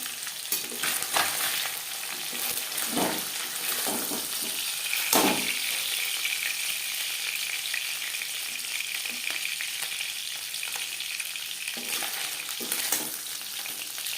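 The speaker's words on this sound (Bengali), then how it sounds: "মাছ হালকা করে ভাজা হয়ে গেছে" Live shing fish frying lightly in a pan, giving a steady, close sizzle and crackle throughout, with a few sharper spits and stirring clatters along the way.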